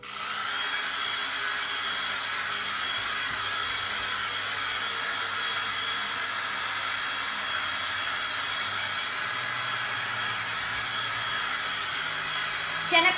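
A handheld dryer blows steadily and loudly over silkscreen paste on a board, a close, unbroken whooshing hum lasting the whole stretch, with faint voice traces beneath.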